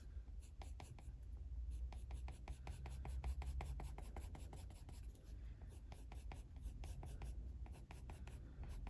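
A colored pencil shades on paper in quick, regular scratchy strokes, close and soft, repeating steadily through the whole stretch with brief pauses.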